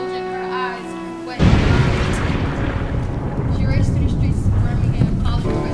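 A huge explosion erupts suddenly after a quiet tonal stretch, followed by a long roaring, rumbling blast that stays loud and dense to the end.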